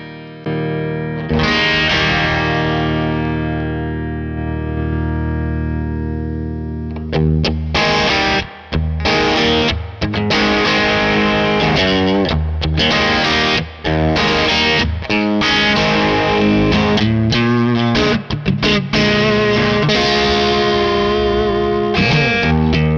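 Electric guitar through a Kernom Ridge overdrive pedal, opening with a loud sustained chord that rings out, then busy driven chords and single-note riffs with dense distortion, played alone without talk.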